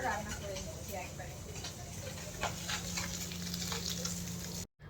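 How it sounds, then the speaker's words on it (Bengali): Fish frying in a pan at home, steady crackling sizzle throughout with small pops and stirring clicks, under faint talk and a low hum. "আমাকে এখন মাছ ভাজতে বসেছি"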